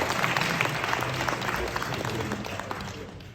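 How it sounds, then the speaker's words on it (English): A summit audience claps for a panel on tokenized real estate, a full, busy round of applause with a murmur of voices underneath, tapering gently toward the end. "why don't you give them a big round of applause?"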